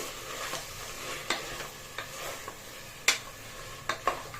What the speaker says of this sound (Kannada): ಹಸಿ ವಾಸನೆ ಹೋಗೋವರೆಗೂ ಒಂದು ಐದು ನಿಮಿಷ ಈ ಮಸಾಲ ಜೊತೆ ಮಟನ್ನ ಫ್ರೈ ಮಾಡ್ಕೊಳ್ಳಿ